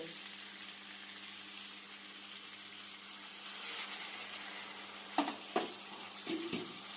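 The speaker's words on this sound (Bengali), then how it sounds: "এইবারে আমরা আরও একটু গরম জল দিয়ে ভালোভাবে মিশিয়ে নেব" Hot water poured into vegetarian muri ghonto and stirred, a steady broad sizzle and hiss at low level, followed near the end by a few sharp clinks and scrapes of a spoon in the pan.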